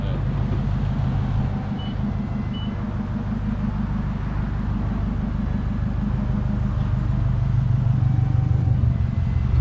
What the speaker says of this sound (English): I'm just gonna go warm up my car.